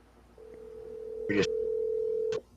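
A steady telephone tone holds for about two seconds, with a couple of short, sharp bursts partway through and at the end.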